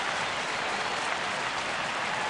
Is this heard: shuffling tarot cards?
no